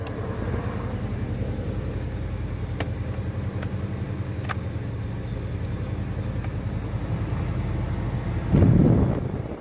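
Air from a second-generation car's A/C blows out of the ducts as a steady broadband whoosh under a low hum, with a few faint clicks and a brief louder rustle near the end.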